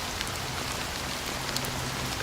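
Steady rain falling in the video game Honkai: Star Rail, a dense continuous hiss with a few scattered louder drops and no other sounds.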